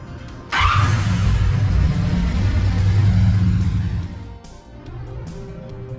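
A Honda V65 Sabre motorcycle engine fires up and then idles loudly and close by as it warms, a rough steady rumble that drops back a little near the end.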